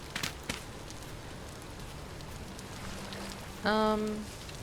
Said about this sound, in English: it seems to be raining a lot around here